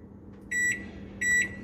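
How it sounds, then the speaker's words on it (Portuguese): A kitchen microwave oven being set to six minutes gives two short, clear electronic beeps about half a second apart over a faint background hum. "Aqui no meu micro-ondas, eu vou colocar 6 minutos."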